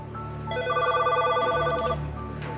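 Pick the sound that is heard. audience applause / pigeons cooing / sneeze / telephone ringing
telephone ringing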